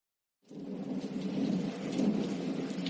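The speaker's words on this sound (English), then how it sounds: "it was cloudy, with the occasional thunderstorm" A thunderstorm with rain, starting abruptly after a short silence into a steady, dense rush of rainfall with a deep low rumble of thunder beneath, moderately loud and continuous with no voices.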